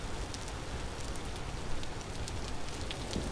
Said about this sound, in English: I don't know why it's fucking raining so much,